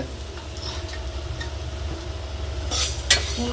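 Ingredients for chicken curry fry lightly in a pan, a low steady sizzle under occasional sharp clinks and scrapes of a utensil stirring against the metal, close and fairly loud.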